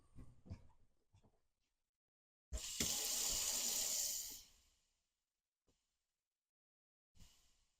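Water gushes from a kitchen faucet in a Newmar Bay Star motorhome during winterizing, a loud steady hiss for about two seconds that tapers off, with quiet clunks and handling sounds before and after.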